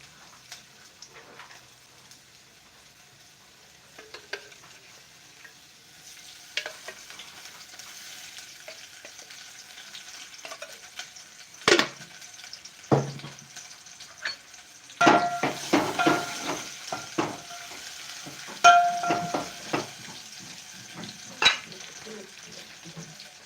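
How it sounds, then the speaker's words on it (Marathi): Onions fry in oil for an egg curry while being stirred, a soft steady sizzle punctuated by scattered scraping and clinking of a spatula against the pan, growing busier with louder knocks toward the end. "कांदा छान तेलामध्ये परतून घेते मी"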